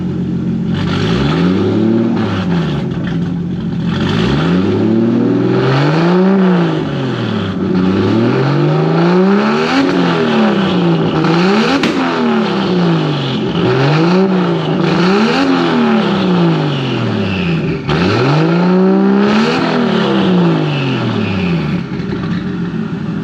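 A car exhaust fitted with a 4-inch tip is revved repeatedly, each rev climbing and then falling back, in a rhythmic series of loud, close blips with an idle between them and no talking.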